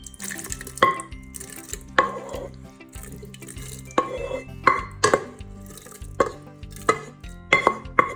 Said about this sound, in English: and then drain again, and then add some more cold water, drain again.